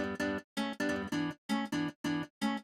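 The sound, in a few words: guitar with fast stereo delay, Haas effect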